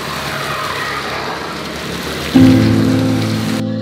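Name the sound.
rain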